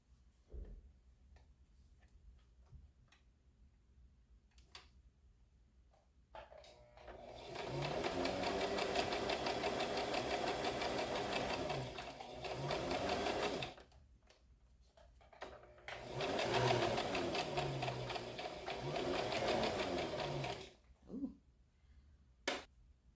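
A sewing machine stitches the fly of a pair of trousers in two steady, rapid runs separated by a brief pause, with a few soft clicks of handling before and after; close and fairly quiet, with no talking.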